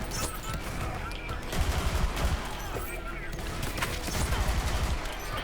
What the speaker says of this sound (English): this is a insanely fully automatic, fast, burst firing Jakobs gun